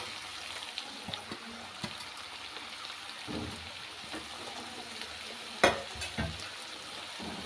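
Finely chopped cauliflower stalks are stirred into a frying pan for Punjabi-style aloo gobi. A soft, quiet sizzle sits under scattered scraping taps, with one sharper clatter near the end.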